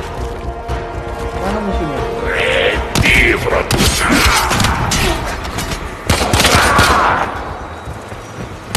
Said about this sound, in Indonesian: Ada yang nembak guys, dari atas.